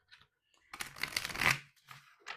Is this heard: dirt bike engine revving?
no